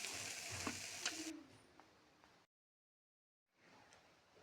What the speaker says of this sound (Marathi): त्यानंतर यामध्ये हळद टाकून घेतलेली आहे आणि त्यानंतर पुन्हा असं परतून चांगलं घ्यायचं आहे